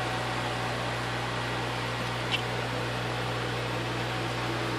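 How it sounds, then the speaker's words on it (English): A vacuum pump runs steadily while drawing down a wood-stabilizing pot, giving a constant loud mechanical hum and hiss with no change in rhythm and one faint brief tick partway through. "I'm going to let it keep pumping for a minute"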